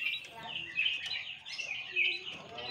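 Derkuku doves call during mating in a breeding setup, with repeated bright chirps and soft cooing notes over a light background hum, fairly close.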